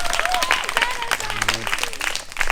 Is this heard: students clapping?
yes